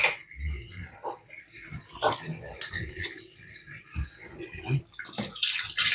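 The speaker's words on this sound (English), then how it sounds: "While you're doing that, I'll wash up the jar." Running tap water splashing and sloshing as a jar is rinsed under it, with irregular gurgles and clinks and a few quiet spoken sounds mixed in.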